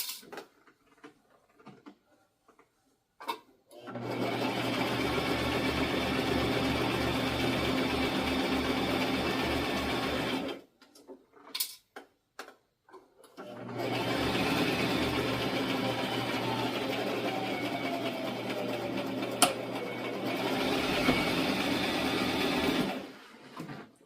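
A sewing machine stitches fabric for a sheath dress in two sustained runs of steady motor whir, several seconds each, separated by a brief quiet pause, close and fairly loud with no talking.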